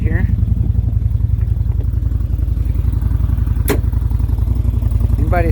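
A 2022 CFMoto Z-950 H.O motorcycle engine runs steadily nearby with a low, rapid pulsing exhaust note, a brief sharp click partway through and a short faint tonal rise at the edges.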